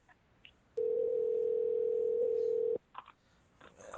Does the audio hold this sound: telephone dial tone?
yes